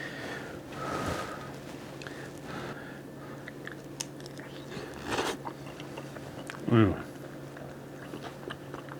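Eating a plate of beef, runny egg, rice and gravy, with a few close, soft bites and chewing sounds and a nasal breath, in a quiet room with occasional speech.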